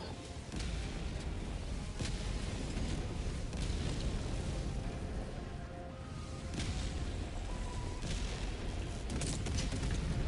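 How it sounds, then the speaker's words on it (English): Hellbomb detonation amid heavy combat in Helldivers 2, a sustained, roaring wall of explosions and gunfire with repeated sharp blasts punching through, loud and continuous throughout. "That's gonna look cool when the hell bomb goes off because of my ordnance."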